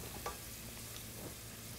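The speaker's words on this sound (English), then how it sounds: "I'll be over here frying okra." Okra fries in a pan with a soft, continuous sizzle and a few faint stirring taps, heard alone and fairly quiet.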